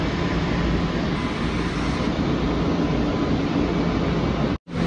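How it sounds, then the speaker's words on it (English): A loud, steady rushing rumble of a Long Island Rail Road train bound for Jamaica moving through Grand Central Madison station, continuous broadband noise that cuts off abruptly near the end. "Train to Jamaica right there."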